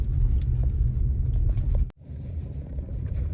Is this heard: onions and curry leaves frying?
no